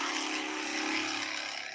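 A UTV race car engine held at full throttle on a wooded off-road course with Maxxis tires, a steady, loud, unbroken roar that never lets up.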